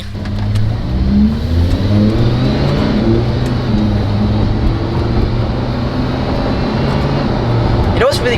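Lamborghini Huracan with an $8000 aftermarket exhaust accelerates on a test drive, its engine rising through the gears as a steady, loud drone heard from inside the cabin.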